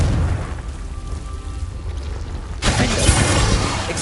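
A Confringo fire spell bursts in Hogwarts Legacy, an abrupt loud explosion that erupts partway through and keeps roaring with dense crackling rumble after a quieter ambient lead-in.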